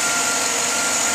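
A 2012 Chevrolet Silverado 1500 crew cab LTZ 4WD pickup engine running smoothly at a steady idle, close and even with no talking.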